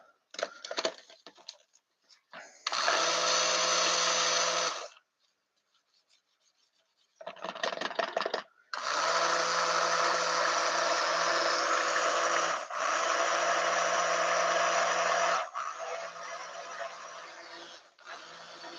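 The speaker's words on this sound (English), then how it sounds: "I need the stick blender again. I want to go ahead and stick blend this one." A stick blender mixes vegan soap batter in short whirring bursts. Two stop-start runs come early, followed by a longer continuous stretch, all fairly quiet and up close with no talking.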